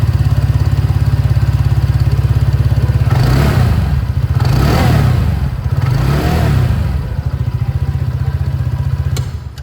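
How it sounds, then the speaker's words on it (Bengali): Exhaust of a TVS Ntorq 125 scooter, loud and close: a steady, putting idle is twice revved up in swelling bursts, then settles back to idle, with no talk. "একবার এক্সস্ট সাউন্ডটা আপনাদের শুনিয়ে দিই।"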